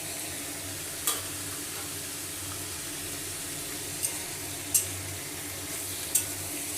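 Onion, garlic and chili, along with prawns, fry in a pan with a steady, close sizzle, broken by a few sharp clinks of a utensil against the pan.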